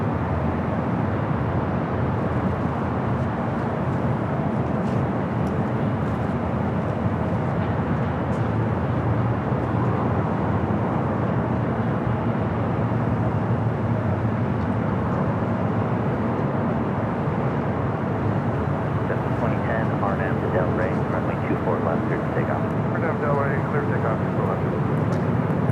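A Qantas airliner taxis and makes a right-hand turn on the north side of LAX, a broad, steady engine rumble heard from a distance under continuous background noise and voices.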